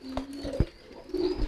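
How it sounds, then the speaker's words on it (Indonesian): A racing pigeon coos close by, a few low throaty coos with soft thumps, heard alone without talk. "Ini jelas-jelas merpati balap nih giringnya."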